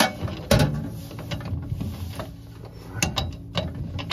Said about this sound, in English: you can always use the crescent wrench and just take it off like that